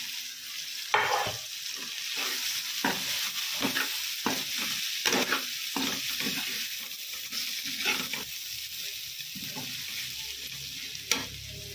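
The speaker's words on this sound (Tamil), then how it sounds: "அதுக்கப்புறம் எடுத்த சப்பாத்திங்களை இதை கூட கலந்துக்கலாம்" Pieces of leftover chapati are stirred into a frying chilli mixture in a pan, giving a close, busy run of scraping stirs and clatters over a constant sizzle; no voices are heard.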